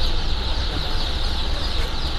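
A dense flock of broiler chicks and chickens at a chick sale in Surakhani district clucks and peeps continuously, a loud, busy, unbroken chatter close by.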